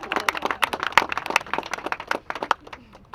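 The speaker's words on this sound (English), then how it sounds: "give him a round of applause" A small outdoor crowd at a family press gathering in a park claps in brief, scattered bursts, moderately close and fairly quiet, with no talk over it.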